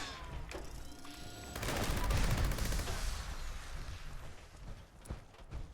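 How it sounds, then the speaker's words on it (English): Gauss Gatling gun firing in the Fallout 76 video game, a dense sustained roar of rapid shots building to a loud peak, then trailing off into scattered reports and a final sharp crack. "this is the Gauss Gatling with the new heat meter"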